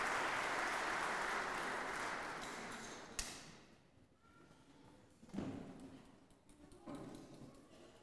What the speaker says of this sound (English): give the boys and girls a huge big round of applause